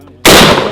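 A firearm fires one sudden, very loud shot at a shooting range, a sharp blast that decays quickly with no voices over it.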